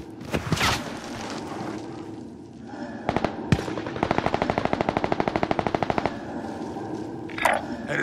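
Gunfire in the video game Call of Duty: Modern Warfare: a few scattered sharp shots, then a long, rapid, loud automatic burst of evenly spaced rounds, followed by a short trailing crackle.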